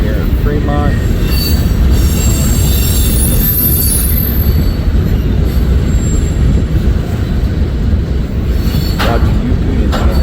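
A freight train rolls past on former C&W track in Fremont, Nebraska, loud and close, its wheels squealing and grinding steadily against the rails the whole time.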